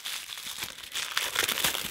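Gold wrapping paper on a luxury Jo Malone advent calendar door crinkles and tears as it is unwrapped, close and continuous with bursts of louder crackling.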